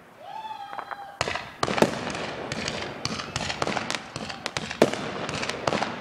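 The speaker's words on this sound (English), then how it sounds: "Let's see some fireworks." New Year's Eve fireworks set off by neighbors crackle and pop in rapid bursts, with loud sharp reports and firecracker strings echoing outdoors after a brief quiet start.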